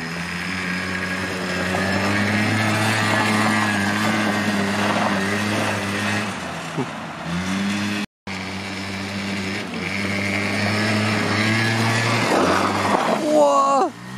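Small 50cc quad bike engine droning steadily while riding, with a brief cut around the middle and rising revs near the end; a voice talks over it.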